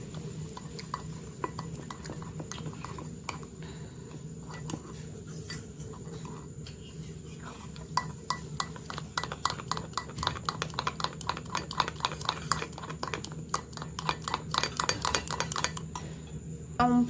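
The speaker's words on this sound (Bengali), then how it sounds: "কমপ্ল্যানটা গুলে আমি রেডি করে নিলাম" A spoon clinks steadily against a bowl while Complan powder is stirred to dissolve it for ice cream, the fast taps quickening and growing louder toward the end over a low background hum.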